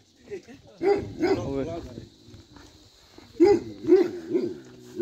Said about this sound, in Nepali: कोहीलाई नटुक्ने कुकुर यहाँ भल्ला गर्छ सधैँ यहीँ बसेर भुके हान्छ